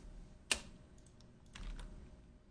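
A single sharp keystroke on a computer keyboard, then a few quieter taps a moment later, close and faint in a quiet room.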